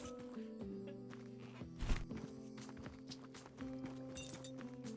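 Horse hooves clip-clopping in a tavern-keeping video game, soft steady walking steps at moderate distance beneath a busy mix of background game sounds and music.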